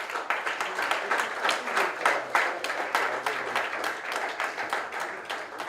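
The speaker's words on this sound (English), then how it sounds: "A big round of applause, ladies and gentlemen." Applause from the audience at a landscape architecture scholarship award ceremony, with steady, moderately loud clapping that carries on for the whole stretch while certificates are handed over.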